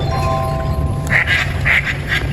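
Several ducks quack in short bursts at close range, about three quick clusters of calls over a steady low background hum.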